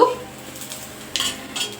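Greens getting a spice tempering in a pan, heard as metallic clinks and scraping of utensils against cookware, with a few sharper clatters toward the end and no voices.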